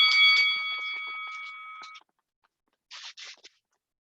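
A loud electronic workout timer buzzer sounds with a steady harmonic tone for about two seconds, then stops; a few short faint rustling sounds follow.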